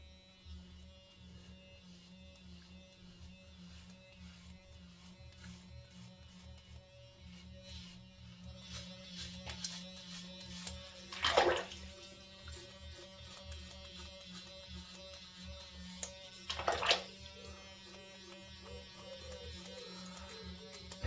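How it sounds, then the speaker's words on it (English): A Gillette Proshield power razor hums faintly and steadily with a low buzz, interrupted by two brief louder rustling bursts as the head moves against skin. "now I'm going to turn on the power and just listen to this."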